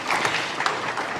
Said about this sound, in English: please give them another round of applause because they do deserve it